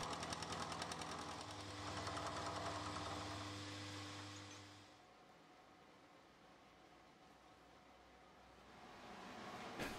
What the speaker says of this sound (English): decide to take the easy option to bring them down to size in the milling machine